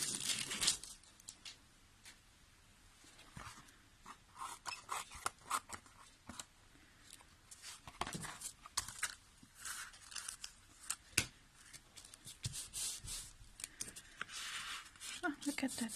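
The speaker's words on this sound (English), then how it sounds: "now I'm gonna cut the edges again, the excess from the back side" Scissors trim excess paper from the edges of a mixed media journal page in many sharp, uneven snips and crunches over a long stretch, close and fairly quiet, with a voice talking intermittently.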